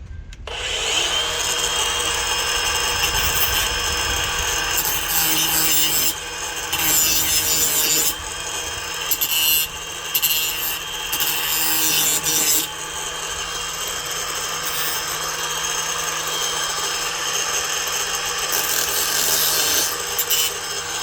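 Ridgid Octane 18V brushless 4.5-inch angle grinder fitted with a DeWalt metal blade, a loud, continuous, harsh high grinding whine held close for the whole stretch, with brief dips where the cut eases.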